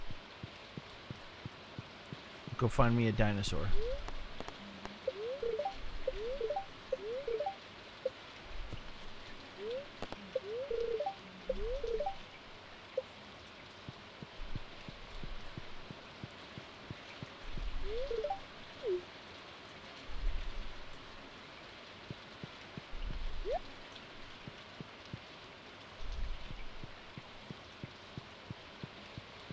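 Steady rain patter in Stardew Valley with soft, intermittent cooing bird calls and occasional louder blips, while a person briefly speaks over it near the start.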